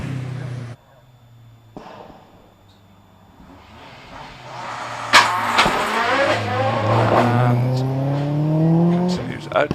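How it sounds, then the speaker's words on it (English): A four-wheel-drive Subaru Impreza climbs a hillclimb course at Prescott. The engine is faint at first, then swells to a loud, rising, revving roar through gear changes as the car nears. A commentator talks over the engine throughout. "So Jeff in that 4-wheel drive Subaru Impreza comes on up the hill."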